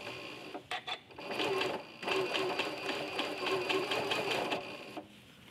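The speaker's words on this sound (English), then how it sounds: "So I'm going to start by sewing that gentle curve." A sewing machine fitted with a walking foot stitches a gentle curve in quilting fabric, a close, fast mechanical whirring that starts in short bursts and then runs steadily for several seconds.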